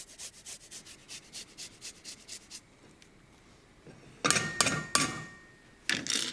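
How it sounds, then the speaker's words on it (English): Garlic clove being grated by hand over a pan of gently melting butter: a run of quick, regular rasping strokes, a short pause, then a few louder, closer scrapes, with no talking. "I'm going to grate in a fat clove of garlic."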